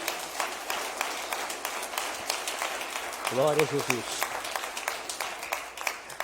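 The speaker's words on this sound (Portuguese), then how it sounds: "Dê a sua melhor salva de palmas para ele." A church congregation at a family service claps along, a dense wash of applause with a few sharp individual claps, while someone speaks loudly over it in Portuguese.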